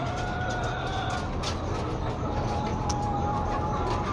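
Chickens and roosters clucking inside a coop, scattered calls and a few sharper squawks over a dense, steady background hum, fairly faint and without clear speech.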